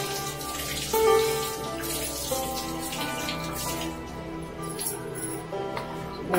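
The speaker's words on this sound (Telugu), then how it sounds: "దీన్ని ఒకసారి టాప్ కింద కడిగేసి" Something is rinsed under a running kitchen tap, giving a steady, close splashing flow over a faint tonal hum.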